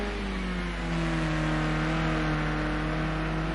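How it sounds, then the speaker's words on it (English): A touring car engine in a PS4 racing game at Oulton Park drones steadily, its pitch easing slightly downward as the driver lifts off the throttle and slows, loud and continuous with no voices. "you heard him just get off the throttle and slow the car down a bit"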